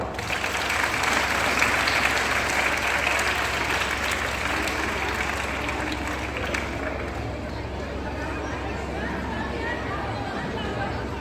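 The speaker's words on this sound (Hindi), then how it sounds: "चलो बहुत बढ़िया, आपके लिए ताली बजाओ" Children clapping for themselves at a school awareness program, a steady burst of applause filling the room with some chatter mixed in, gradually easing off toward the end.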